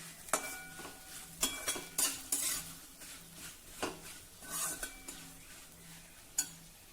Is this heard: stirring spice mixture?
yes